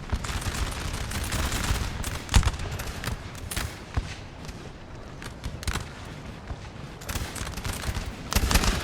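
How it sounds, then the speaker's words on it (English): Line infantry fire massed musket volleys in Napoleon: Total War's 1795 Battle of Loano, a dense continuous crackle of gunfire with heavier booming shots bursting out now and then. "The line infantry holding the line here, blasting away."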